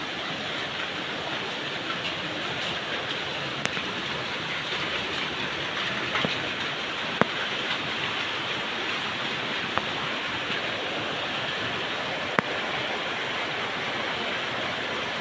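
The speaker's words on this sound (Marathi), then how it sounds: "बघा पाऊस किती जास्त आहे." Heavy rain pours in a dense, steady roar that fills the whole stretch, with a few sharp drip or tap clicks standing out against it and no voices.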